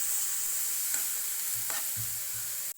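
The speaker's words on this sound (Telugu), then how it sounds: "వేసేసి చక్కగా ఫ్రై అయ్యేలా చూడండి" Green chili paste fries in a pan, its steady bright hiss of sizzling oil running throughout, broken by a few soft scrapes and low knocks of a stirring spoon before it cuts off.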